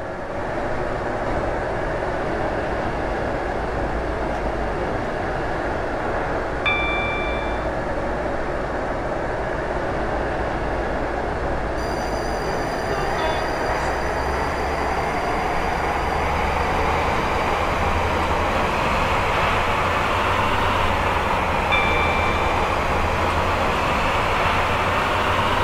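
A Class 458 electric train in a video game runs at speed, a constant loud rolling rumble with a rising motor whine and a few faint electronic chimes along the way.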